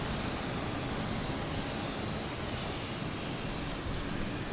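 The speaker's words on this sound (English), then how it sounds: "Next to arrive is Aer Lingus coming in from Dublin" Aer Lingus Airbus A330 arriving from Dublin at Boston Logan Airport, a steady broad jet roar that holds at an even, fairly loud level throughout with no talk.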